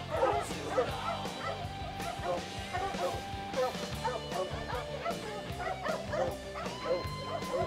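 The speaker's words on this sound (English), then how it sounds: "the lion dog" A hunting dog on a mountain lion hunt in the Nevada hills barks and yips repeatedly at close range, with whimpering cries between the barks.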